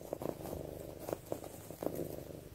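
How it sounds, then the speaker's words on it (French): A cat purrs close up, a soft low rumble with rhythmic pulses of breathing, quiet and unaccompanied. "La machine à ronron s'est enfin activée"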